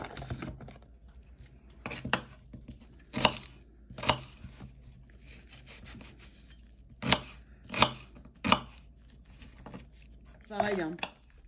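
A knife chops onions on a cutting board, slicing them into large, thick strips for a veal stew. The sound is a series of sharp, close board knocks in irregular clusters, with quiet pauses and faint background room noise between the cuts.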